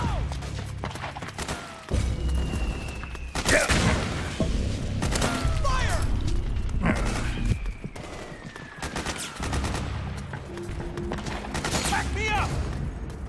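Suppressing gunfire crackles through a Metal Gear Solid 4 firefight, with sustained bursts of automatic rifle fire, heavy booms and impacts, and soldiers shouting commands over the din.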